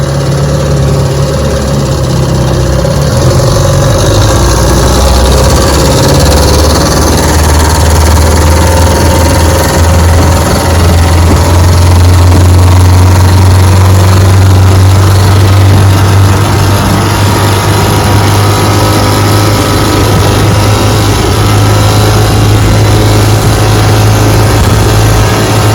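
A 1954 Gale Buccaneer outboard engine, recently fixed after carburetor trouble, idles loudly and close, then its pitch climbs as throttle is given and it settles into a stronger, steady run.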